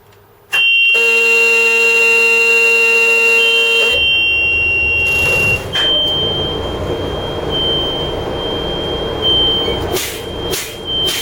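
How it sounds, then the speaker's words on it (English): A bus's low air pressure warning buzzer drones loudly for several seconds over an idling engine, then a thin high warning tone lingers amid mechanical rumble and clicks. "My low air warning light and buzzer should activate by 60 psi."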